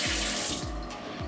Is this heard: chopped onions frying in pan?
no